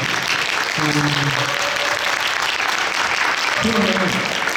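Audience at a Korean theater talk concert applauds the actors of a stage play, steady dense clapping throughout while a presenter's voice speaks over it at moments.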